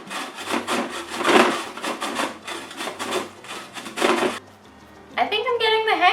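A sweet potato is grated by hand for hash waffles, giving steady repeated rasping strokes up close in an even rhythm; the scraping stops near the end and a voice is heard.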